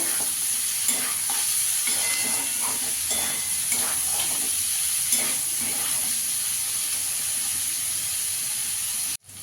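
Vegetables and chicken frying in a pan for chicken fried rice, a loud continuous sizzle with repeated stirring scrapes throughout, cutting off abruptly at the end.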